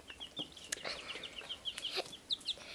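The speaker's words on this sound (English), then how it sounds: "And this is a little yellow pullet." A two-week-old yellow pullet chick gives a run of thin, high peeping chirps, close and fairly soft, scattered over faint background rustle.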